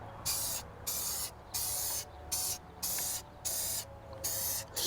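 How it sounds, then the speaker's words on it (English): Pig Spit aerosol protectant sprayed from a can in about seven separate bursts, each a loud, steady hiss lasting roughly half a second, with short quiet gaps between them and no talking. "So let's spray this down."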